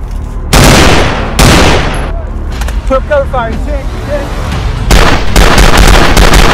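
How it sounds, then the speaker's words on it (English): Rapid bursts of gunfire in a gritty short film about drugs and guns, loud volleys starting and stopping over several seconds, with a brief lull of rustling and movement between bursts. "Shot fired."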